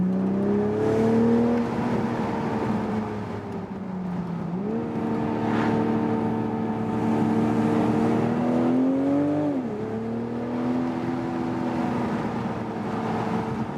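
BMW Z4 M40i sports car engine under way on a winding road, a loud steady drone that dips and rises with shifts and throttle changes, pitch sweeping around two gear changes, no voices.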